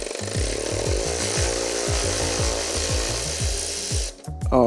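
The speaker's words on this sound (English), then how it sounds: "using our T25, we're gonna remove this bolt right here" Power driver with a T25 bit backing a bolt out of the valve cover on a Mercedes M156 engine, a loud, steady motor whine cut by rapid stuttering impacts, stopping abruptly near the end.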